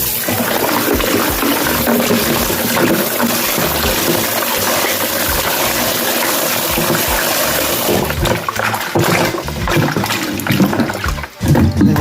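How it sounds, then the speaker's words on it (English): Rinse water being poured off raw chicken feet during soup preparation, a steady loud splashing pour running continuously with a few brief breaks, no talk. "Pour off the water guys."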